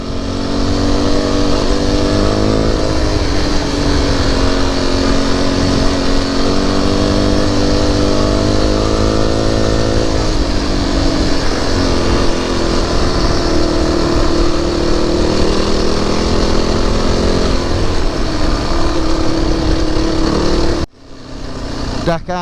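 An off-road vehicle's engine roars loud and close in third gear on the rough track over Salter Fell, its pitch rising and settling as it pulls steadily, with wind noise throughout and an abrupt cut near the end.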